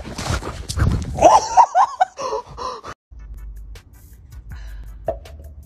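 A dog throwing snow from a snow cone yips and whimpers in a rapid excited run of short sounds, close and loud, then settles into quieter rustling background noise with an occasional faint whine.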